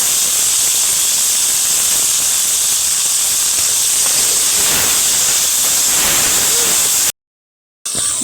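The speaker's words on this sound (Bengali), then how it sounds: "বিনসটা আমি ভেজে নিয়েছি" Beans frying in white oil in a wok for chow mein give a steady, loud hiss and sizzle throughout, with no talking, ending in a brief cut of silence near the end.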